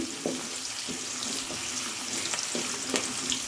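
Chopped onion and garlic frying lightly together in a pan for homemade fried rice, a steady sizzle with a few soft stirring clinks and knocks spaced throughout.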